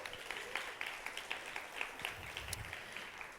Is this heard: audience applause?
yes